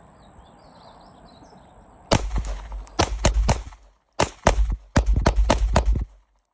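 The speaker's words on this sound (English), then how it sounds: "I loaded both mags fully. Now I kind of want to see how fast you'll run." Rapid pistol fire from a Springfield Ronin EMP emptying full magazines outdoors: after a quiet stretch, loud close shots crack in quick strings, with one short pause before a final fast burst.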